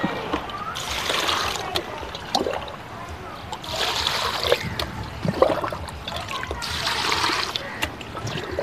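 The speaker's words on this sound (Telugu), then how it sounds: "దీనిలో చక్కగా మంచిగా మనం వాటర్తో నింపేసి ఉంచేసుకోవడమే" Water gushes and splashes into a container in three rising surges, with trickling and sloshing between pours, heard close up.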